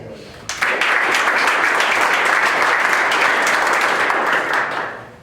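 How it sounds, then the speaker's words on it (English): A burst of applause starts suddenly and holds steady from a sizable audience at an organizational meeting, honoring long service, then fades out near the end. "Give him an applause."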